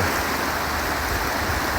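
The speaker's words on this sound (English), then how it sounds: "This is a creek that I couldn't get across for Paw Butte." A rushing mountain creek running strongly near Wedge Mountain in Crowsnest Pass, Alberta, heard close as a steady, dense wash of water.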